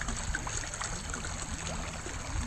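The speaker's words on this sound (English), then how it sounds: "Since all this water is now forced to go this way, since it's not going over there" Water funnelled through a small hand-built rock riffle in a cold stream trickles and burbles steadily, a close, continuous gurgle with no voices.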